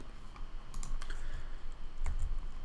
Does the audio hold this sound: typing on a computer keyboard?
yes